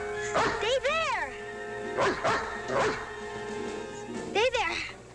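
A dog in a 1961 Lassie television episode barks and whimpers in several separate bursts of high, wavering yelps across a few seconds, heard close and fairly loud, with a steady background hum beneath.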